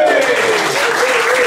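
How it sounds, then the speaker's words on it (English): Applause from an audience at a live music performance, a steady dense patter of clapping filling the short moment at moderate loudness. "round of applause"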